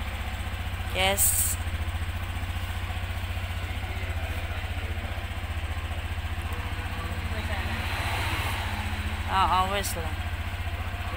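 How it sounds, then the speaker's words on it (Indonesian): A new Honda All New Scoopy scooter idles close by with a steady low engine hum throughout, while people talk briefly over it near the start and again near the end. "Motornya sudah datang. Ini adalah motor baru All New Scoopy."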